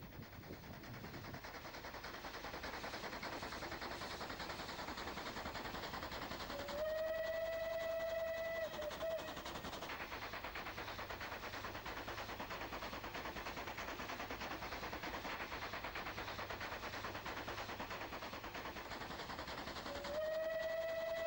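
A train climbing a steep, curving line rumbles steadily with a low continuous drone, and a long whistle sounds twice, several seconds apart, somewhat distant.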